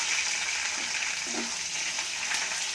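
Curry leaves and chopped green chillies fry over high heat in a pan for lemon rice, giving a dense, steady sizzle with faint stirring. The sound is close and even, with no talking.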